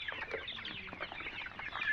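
Several chickens cluck and chatter close by as they peck at grain scattered for them in a rural household yard, a steady, busy flock noise running through the whole stretch with no talk over it.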